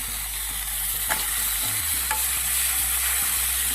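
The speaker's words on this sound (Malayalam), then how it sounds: "ഒരു രണ്ട് മിനിറ്റ് ഇതുപോലെ ഒന്ന് ഇളക്കി കൊടുക്കാം" Okra, onion and green chilli sautéing in a pan, with steady close sizzling and a few scraping stirs of a spoon, no talking.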